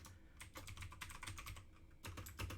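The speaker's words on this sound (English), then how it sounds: "Sorry for all the clicking and clacking, everybody. I know you can hear it through the microphone" Computer keyboard keys clicking and clacking in quick, irregular bursts of typing, close to the microphone, with a short pause partway through and no talking.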